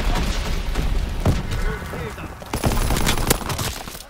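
Enemy gunfire crackles through a Call of Duty: WWII match, rapid overlapping shots and thuds mixed into a dense, noisy battle din.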